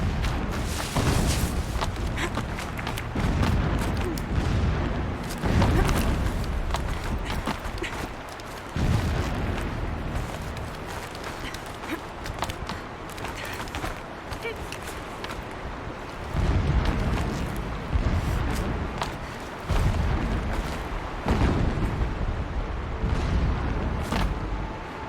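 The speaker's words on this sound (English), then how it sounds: "Explosions in the distance." Distant explosions rumble in the Horizon Zero Dawn game world, a series of deep booms at irregular intervals over a windy, crackling ambient bed, with no speech.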